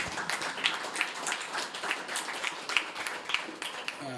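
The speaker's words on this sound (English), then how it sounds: "Yeah, you can clap for that" Audience clapping at a veterans' conference supporting Ukraine: a sustained patter of many hands with a few sharper individual claps standing out, moderately loud and continuous throughout.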